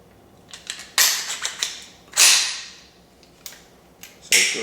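A B&T SPC9 airsoft gun is handled and cleared indoors, giving a series of sharp mechanical clacks and snaps of varying loudness, with two louder hard snaps standing out among lighter clicks, no voices.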